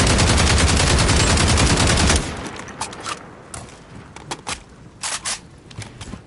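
Rapid automatic fire from an assault rifle with a 30-round magazine in Call of Duty: a dense, loud burst for about two seconds, then a few scattered individual shots and clicks at lower level.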